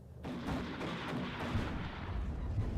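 An AMX tank fires a shot at a BMP-2 in the strategy game Warno, a sudden heavy boom followed by rumbling battlefield noise and distant gunfire, with no voices.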